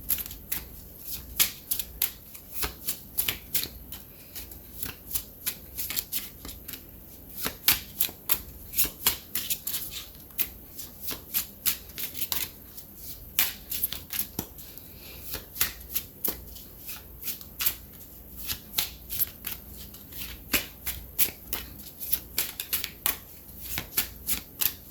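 Tarot cards shuffled steadily for a long stretch, a dense run of crisp riffling bursts and soft slaps repeating in an uneven rhythm, close and clear with no talking.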